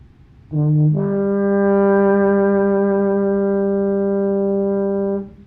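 A baritone horn holds a single sustained G steadily for about four seconds, rich and mellow, with a slight scoop at the start, played alone.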